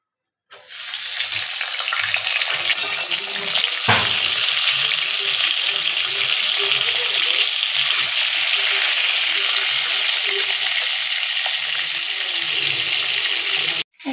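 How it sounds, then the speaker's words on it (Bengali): Pointed gourd (potol) coated in turmeric and salt fries in a pan with a loud, steady sizzle that runs continuously for most of the stretch, briefly interrupted once, with no talking. "হলুদ লবণ মাখিয়ে ভেজে নিচ্ছি লাল লাল করে।"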